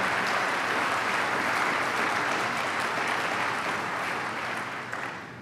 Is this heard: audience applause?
yes